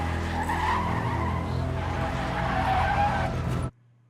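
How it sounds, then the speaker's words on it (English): In a TV show, a car skids with loud, sustained tire screeching and engine noise that cuts off abruptly at the end. "I hear a car."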